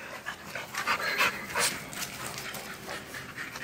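A dog at an elite guard-dog kennel pants close by in quick, rhythmic breaths, with a few faint whimpers mixed in and no talking over it.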